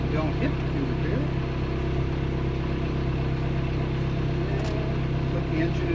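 Inboard engine of an Allied Princess 36 ketch running steadily while docking single-handed at Mount Desert Island, Maine, a close, constant low mechanical hum throughout, with talk over it.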